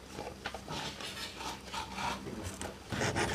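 Rhythmic rasping strokes of a saw cutting through wood, close and moderately loud, repeating back and forth without any talking.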